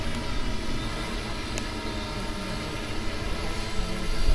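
An octocopter drone with a GoPro attached flies nearby, giving a steady dense buzzing whine of many spinning rotors that holds throughout and grows slightly louder toward the end.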